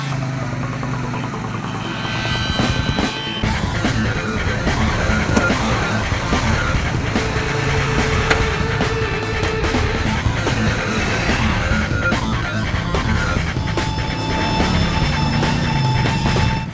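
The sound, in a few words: Wildcat 4 side-by-side off-road vehicle driving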